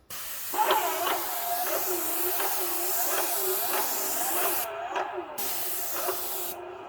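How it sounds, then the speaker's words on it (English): A Graco 695 airless paint sprayer with a 70 tip hisses steadily and close, with a rhythmic pulsing beneath the spray, briefly interrupted near the end. "I got a 70 tip inside here, and I'm going to spray it."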